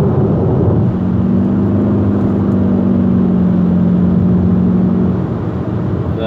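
A Kia Optima GT pulls hard on a mountain road, its engine note climbing in a smooth, sustained drone for several seconds before easing off, loud and close with no talking.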